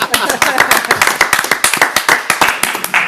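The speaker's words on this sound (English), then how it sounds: "let's clap for that" Audience clapping at a school district governing board meeting, a modest group of distinct, close hand claps in an uneven rapid rhythm, loud and continuous for a few seconds with no talking.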